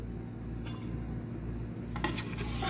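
Mango ice cream ingredients and all-purpose cream being mixed by hand in a bowl, giving a steady close scraping and stirring against the bowl under a continuous low hum, with a brief rougher burst near the end.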